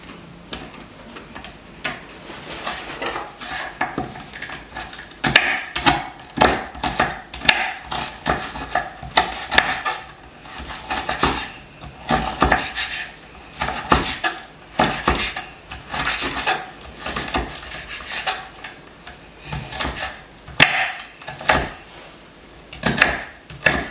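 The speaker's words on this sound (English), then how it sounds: "Actually, I think I will cut some pieces because these are some of the ones that weren't cooked as crispy." A knife cuts pieces of crispy bacon on a board, making a busy run of sharp taps, crunches and clacks in an uneven rhythm, close and fairly loud.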